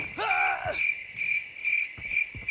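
Steady high-pitched cricket chirping pulses on and off throughout, with a brief whooping electronic tone near the start and soft thumps later.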